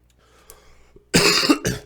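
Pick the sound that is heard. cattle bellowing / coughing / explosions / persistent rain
coughing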